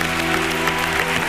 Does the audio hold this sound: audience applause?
yes